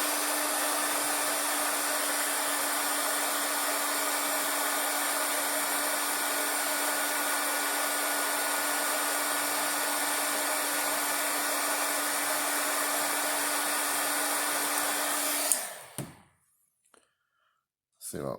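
A heat gun blows hot air steadily over the tip top of a fiberglass rod blank, a loud continuous whooshing drone that runs unbroken, then cuts off abruptly near the end, leaving near silence and a couple of faint handling clicks.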